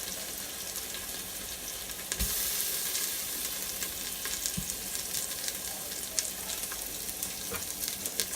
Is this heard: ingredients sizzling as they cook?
yes